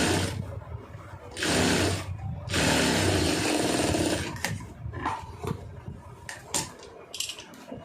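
A sewing machine makes small stitches on a lining blouse. It runs in loud, steady whirring bursts separated by short stops and clicks, with no talk.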